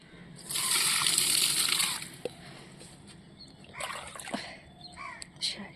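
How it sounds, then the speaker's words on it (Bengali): Water poured onto potted plants in a rooftop garden during dry, sunny weather, a steady splashing gush for about a second and a half, then softer intermittent trickles and drips, with faint bird calls in the background. "একটু জল দিয়ে দিই সব গাছগুলোতে"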